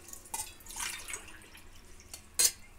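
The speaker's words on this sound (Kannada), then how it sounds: "ಈ ಗ್ಲಾಸಲ್ಲಿ 4 ಗ್ಲಾಸ್ ನೀರನ್ನು ಹಾಕ್ತೀನಿ ಪಾತ್ರೆಗೆ" Water poured from a glass into a cooking pot makes a few short, quiet splashes and drips, separated by pauses, with one sharper splash near the end.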